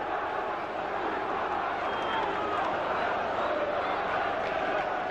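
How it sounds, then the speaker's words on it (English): A dense, steady roar rises from the Chesterfield football crowd jeering after a wide shot, a far-off wash of many voices filling the stadium without a break. "And the jeers from the Chesterfield crowd ring out once more."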